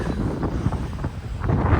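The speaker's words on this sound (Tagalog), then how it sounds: "At lumalakas na yung hangin." Strong wind buffets and rumbles against the microphone in uneven gusts, a low, loud roar that surges and dips throughout.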